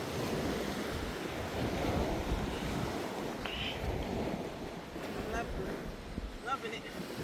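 Ocean surf rolls at a beach in a continuous wash of waves, with gusting wind buffeting the microphone and voices speaking faintly over the roar.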